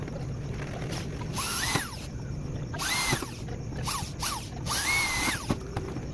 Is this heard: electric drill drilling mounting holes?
yes